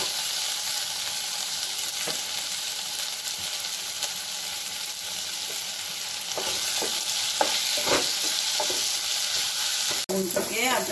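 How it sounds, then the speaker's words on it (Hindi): Ground ginger, garlic and red chili paste frying and being stirred in a pan while cooking a jackfruit curry, with a steady loud sizzle and scattered scraping stir strokes throughout, close up and no talking. "इसको भी थोड़े भून लेते हैं हम, ताकि इसकी कच्चापन दूर हो जाए।"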